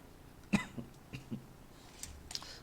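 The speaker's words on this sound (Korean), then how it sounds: "장기침이 나네." One sharp cough up close, followed by a few softer throat-clearing coughs in a quiet room.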